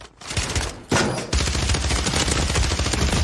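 Rapid automatic gunfire in a shooter video game, dense bursts of shots running nearly continuously and loud, with a brief gap before a renewed stream of fire.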